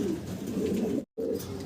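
Lahore pigeons coo steadily at close range, a low, rolling throaty murmur that runs on with a brief break near the end; no one speaks.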